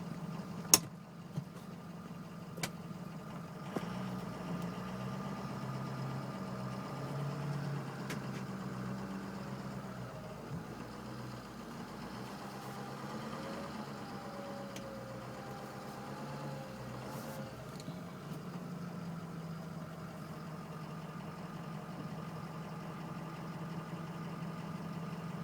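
A car engine idles steadily during remote start, a low, even hum with slight mechanical knock that runs the whole time, broken only by a few sharp clicks near the start. No one speaks.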